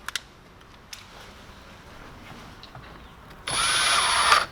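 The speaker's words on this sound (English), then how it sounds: "We're going to put our little screws back in." A power drill or driver runs for about a second near the end, driving screws back in while reinstalling a Toyota Corolla headlight switch, following quiet handling noises.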